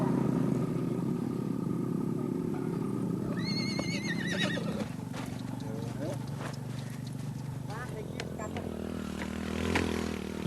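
Horses whinny at the sandy caldera of the Bromo crater in Java, one loud drawn-out neigh followed by shorter calls, over a steady engine-like rumble with a voice talking.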